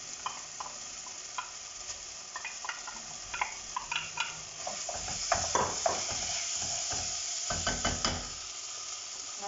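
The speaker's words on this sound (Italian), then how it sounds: "aggiungiamo il pomodoro con le olive" Tomato and olives are stirred into a simmering risotto in a pan, giving soft sizzling under repeated spoon scrapes and knocks against the pan, growing busier and louder midway.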